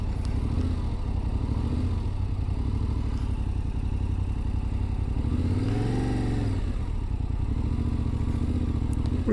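A Yamaha Tenere 700 motorcycle rides along with a steady mid-pitched engine drone, and a brief rise in revs partway through. The sound is close and continuous, heard from on the bike.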